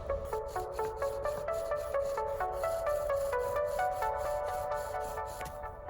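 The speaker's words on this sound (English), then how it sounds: "Hopefully it'll hold up under the stress of a bow drill." A steady back-and-forth rubbing of wood on wood from a bow drill, rhythmic strokes with a squeaky, tonal whine that repeats quickly and evenly.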